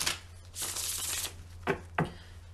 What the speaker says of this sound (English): Get a few good shuffles going.